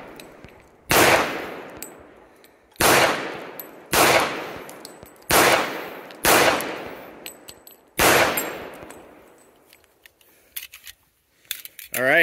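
A Kimber Ultra Carry II pistol fires six loud, sharp shots at roughly two-second intervals, each with a decaying echo, outdoors at a range, followed by faint metallic clicks and handling noises.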